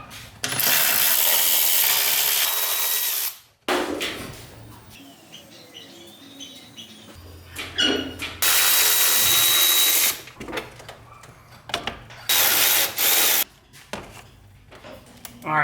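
Power tool whirring in bursts while unbolting the radiator mount on a Mazda Miata with an LS engine swap, several loud impact-driver runs separated by quieter clinks and rattles of tools and bolts in a garage.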